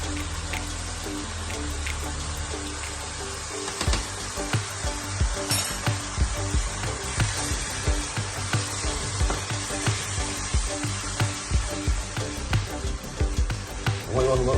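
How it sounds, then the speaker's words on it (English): Chopped peppers and onions for chilli con carne sizzle steadily in a hot pan, joined partway through by rhythmic scraping and clacking as a utensil stirs them, close and continuous. "You want to give it a bit of a stir."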